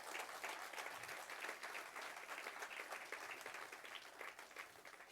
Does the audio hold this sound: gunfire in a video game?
no